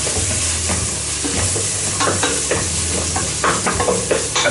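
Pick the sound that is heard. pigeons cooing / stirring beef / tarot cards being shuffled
stirring beef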